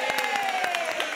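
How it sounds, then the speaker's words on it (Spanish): A studio audience at a comedy show applauds and cheers the comedians. Dense, close clapping and crowd cheering continue steadily through the whole moment. "Un aplauso para nuestros comediantes"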